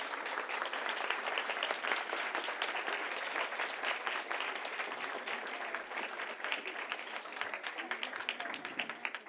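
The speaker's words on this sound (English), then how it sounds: "Let's give a huge round of applause for our performers." A school annual day audience gives performers sustained applause, dense, even clapping from a large crowd filling the hall steadily throughout.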